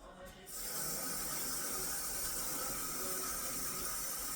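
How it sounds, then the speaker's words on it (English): Steady rushing of running tap water over an onion, starting after a brief quieter moment and continuing loudly and evenly to the end, with no talking. "Throw some water on this onion."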